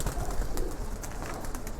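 Pigeons in rooftop cages coo in low, repeated throaty calls over a dense, continuous background of bird noise, close and steady, without speech.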